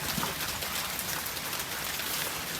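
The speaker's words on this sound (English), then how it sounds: "Still raining." Steady rain falling at night in the Appalachian mountains, a dense close hiss of drops with no voices.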